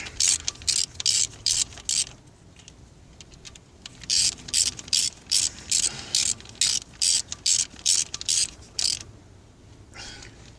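A 10 mm ratchet wrench working on a 2012 Nissan Altima, giving close, sharp bursts of rapid clicking in repeated strokes with short pauses between them.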